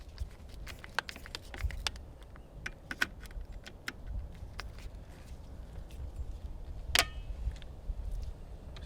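A torque wrench tightening a turkey shotgun's scope mount gives a series of small, sharp clicks at irregular intervals, with one louder click near the end, close and otherwise quiet.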